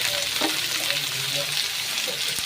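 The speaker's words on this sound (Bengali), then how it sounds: "পেঁয়াজ টমেটো কুচি কাঁচা লঙ্কা ছেঁড়া সেটাও দিয়ে দিলাম, দিয়ে আমি বেশ ভালো করে ভেজে নেব" Chopped onion, tomato and torn green chili frying in a pan, a continuous soft sizzle with light stirring scrapes and clinks, close and alone.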